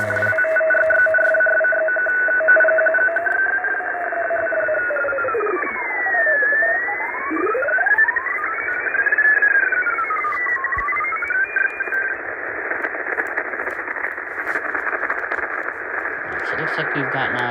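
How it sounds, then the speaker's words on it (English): Navy data signals picked up on a shortwave radio receiver, a steady warbling digital tone with sweeping pitch glides as the tuning drifts, continuous and fairly loud over radio hiss. "there's our Navy signals right there"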